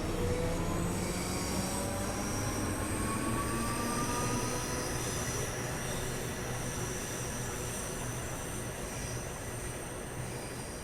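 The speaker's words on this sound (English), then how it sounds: "314202 is seen departing Cathcart with a train for Glasgow" A British Rail Class 314 electric multiple unit pulls away from Cathcart station on a Glasgow service, its wheels squealing and the traction motors whining steadily at moderate distance, with no talk.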